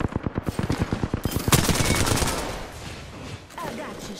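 Rapid automatic gunfire from enemies in Apex Legends, a fast burst of closely spaced shots followed by a louder blast and a noisy, rumbling tail, fairly close and loud.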